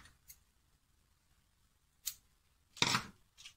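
Scissors snip through a piece of tube in a few separate, sharp cuts, with one louder, longer cut near the end, close up and quiet, during a stained-glass craft project.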